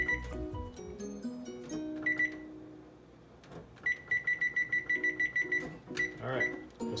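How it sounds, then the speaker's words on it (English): A kitchen timer is set for 30 minutes with a run of quick electronic beeps, a few scattered presses early on and then a rapid regular series of about a dozen beeps, close and clear. "We're going to set our timer for 30 minutes now."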